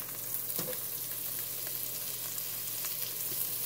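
Butter sizzles and crackles steadily in a hot pot just used for browning a pot roast, over medium-high heat, with a few spoon-stirring scrapes along the way.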